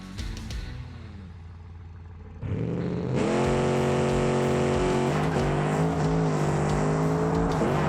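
A drag-tuned Bastion's engine in BeamNG idles with a low rumble, then jumps sharply at about two and a half seconds into a loud, sustained high-rpm roar that holds near the redline and bounces slightly to the end.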